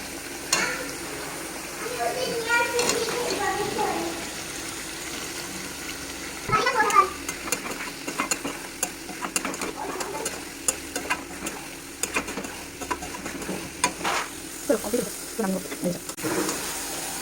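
Paneer sizzles in hot oil in a home kitchen pan, with ongoing crackle, utensil clinks and stirring scrapes, while a voice talks intermittently over it.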